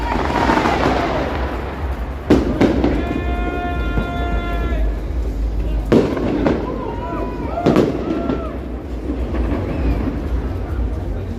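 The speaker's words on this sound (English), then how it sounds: "I'm not expecting it to be a big fireworks show." Fireworks burst over downtown Toronto on a warm Saturday night, sharp booming cracks at intervals with crackling trails and whistling tones between, heard from street level amid city ambience and crowd chatter.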